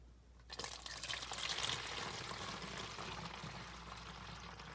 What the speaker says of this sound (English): I'm going to be pouring mine in this little spray bottle that we got that's empty that I can use for this